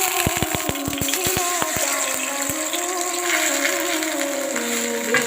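Grated carrots drop into hot ghee with white cardamom in a wok and sizzle. A few quick clattering taps come first, then a steady, moderate frying hiss continues to the end.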